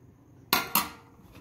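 Steamed rice and black eyed beans stirred together in a pot, heard as two sharp clanks of a utensil against the pot close up, followed by quiet.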